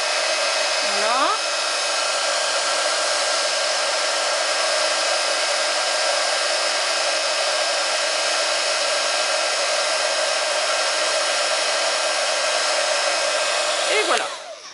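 A heat gun held over embossing powder on a handmade card gives a loud, constant blowing roar that runs unbroken for about fourteen seconds and then cuts off abruptly.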